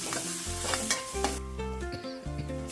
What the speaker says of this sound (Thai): ใส่น้ำมันลงไปแล้วก็ตามด้วยพริกกระเทียมโขกนะครับ ลงไปผัดให้ หอมก่อนเลยครับ